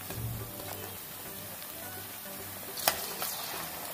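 Prawns and chopped tomatoes fry in a pan with a steady, low sizzle throughout, broken by a brief clatter near the end as the food is stirred.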